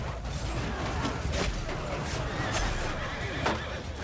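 A horse neighs amid the loud, dense clamor of a cavalry battle in the video game Mount & Blade II: Bannerlord, the whinny rising briefly above constant fighting noise.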